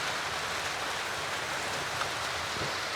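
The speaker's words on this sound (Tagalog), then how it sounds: "Ay nako, ulan." Steady, dense rainfall hisses evenly across the whole stretch, a continuous wash of drops with no voices or breaks.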